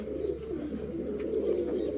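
Pigeons coo in low, throaty, rolling murmurs, a soft continuous burble close by with no talking.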